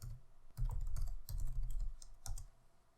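Keys tap on a computer keyboard as a command is entered, a short uneven run of close, soft clicks spaced across a few seconds with no talking.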